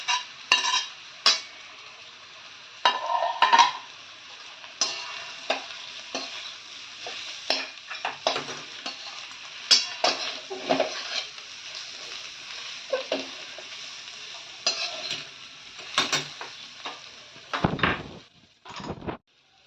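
Omelette pieces and balls in oil with chilli in a pan, stirred with a utensil for a quick home lunch: a continuous soft sizzle under repeated scraping and clinking against the pan, with a heavier knock near the end.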